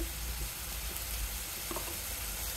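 Garlic and ginger paste frying in a pan with onion paste and spices for a spicy chicken pulao, giving an even, continuous low sizzle heard alone and close.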